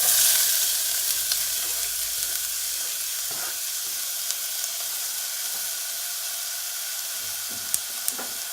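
Onions for red onion jam sizzle in a frying pan with a steady, close hiss throughout, a few light clicks and stirring taps near the end, no voices.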